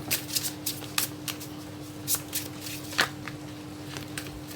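Tarot cards being shuffled at close range, quick papery riffles and slaps arriving in irregular bursts over a faint steady hum, with no talking.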